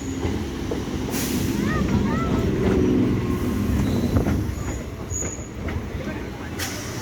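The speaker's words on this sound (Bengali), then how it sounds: "এই ট্রেনে করে আমরা যাচ্ছি দেউলটি আজকে।" Panskura local passenger train on the Howrah line running along, a steady loud rumble of wheels and carriages throughout with faint squeals, with brief voices in the background.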